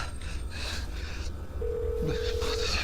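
A phone call is placed, with a short run of dialing tones and then a steady ringing tone under background noise and faint voices.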